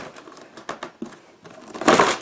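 Crinkling and rustling of a tight plastic bag packed with Miniart 1/35 BZ-38 refueller model kit sprues being handled and opened, in short close bursts rising to a louder crumple at the end.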